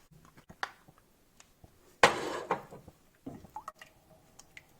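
Tomato sauce mixed with water poured into a pan: a short wet splash and sizzle burst in the middle, with faint drips and soft kitchen clatter before and after, quiet and close.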